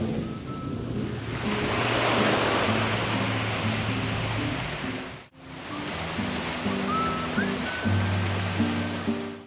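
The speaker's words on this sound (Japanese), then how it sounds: "波がこう立ってる。" Ocean waves wash steadily onto the shore of a clear-watered island in a continuous rushing surf, loud and close with some wind noise, dipping briefly mid-way before the swell returns.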